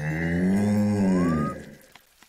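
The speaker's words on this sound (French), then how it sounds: "Abracadabrache, lève-toi, la vache!" A cartoon cow gives one long, loud, close moo that holds steady and then slides upward before cutting off, leaving near silence.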